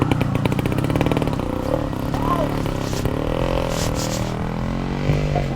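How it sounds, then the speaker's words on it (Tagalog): A nearby motorcycle engine idles and revs with rough, clattering mechanical noise, running steadily throughout. "Kaya siguro na motor yan."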